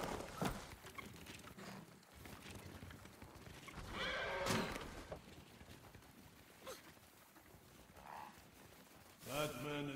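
Horses whinny and neigh in Ghost of Tsushima amid clopping hooves and rustling movement, with one loud, shaky neigh close by at the end.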